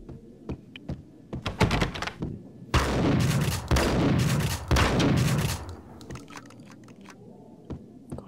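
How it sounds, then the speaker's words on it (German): Shotgun blasts ring out in the Max Payne video game as a door is shot open, with several loud, reverberant booms clustered mid-clip and sharp bursts and thuds around them. "3 Schuss mit der Schrotflinte, um eine Tür zu öffnen"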